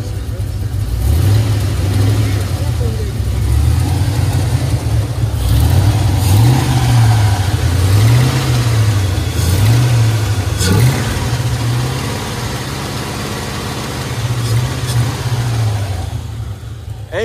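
A Chevy box truck engine revs repeatedly in rising and falling surges, loud and close, with people talking over it throughout.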